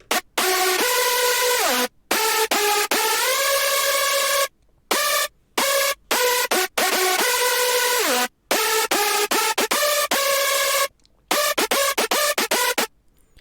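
A screaming hardstyle synth lead, built from four layers in Sylenth1, plays a melody alone. Loud, bright sustained notes bend and glide in pitch, broken by short silent gaps between phrases.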